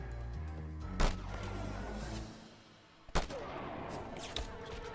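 Two sharp gunshots ring out about two seconds apart, headshots fired in the video game Just Cause 2 during an assault on a supply depot, over a steady low game soundscape.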